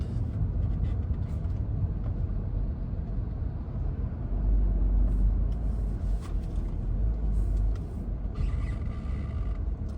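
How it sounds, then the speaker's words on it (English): Slow, crawling city traffic in Riyadh, heard from inside a car on a Sunday sunset drive: a continuous low engine and road rumble that swells and eases, with no one talking. "Turtle-based traffic of Riyadh."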